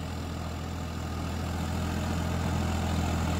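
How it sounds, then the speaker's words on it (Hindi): A Swaraj 744 FF 4WD tractor engine runs steadily at 1800 RPM in low third gear, a loud, continuous low diesel drone that holds without pause from start to finish. "1800 RPM দেওয়া আছে"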